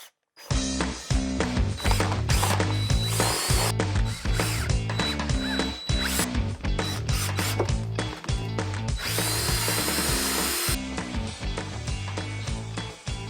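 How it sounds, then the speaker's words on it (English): A power drill whirs loudly and steadily, boring holes in repeated bursts for a Jeep Wrangler tailgate table, with brief pauses and a rising, straining whine between runs. "So let's start drilling"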